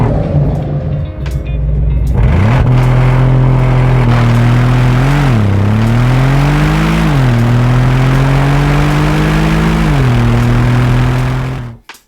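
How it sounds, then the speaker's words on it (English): A Bentley Continental GT sports car with an Akrapovic exhaust starts and revs loudly up close, its deep engine note climbing and falling through several blips before cutting off. "Bentley has started working with Akrapovic, specifically adding an exhaust option for the Continental GT sports car"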